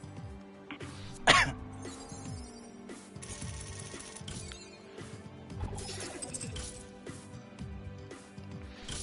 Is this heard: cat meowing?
no